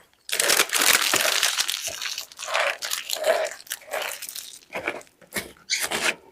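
Loud, close crunching and biting of ketchup chocolate flavoured potato chips, a rapid burst followed by several separate crisp chomps, with no talking.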